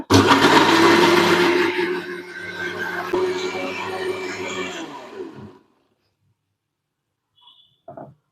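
A mixer grinder whirs loudly as it grinds a thick tomato chutney with a little water, a steady motor drone for about five seconds that then stops, followed by a few faint clinks.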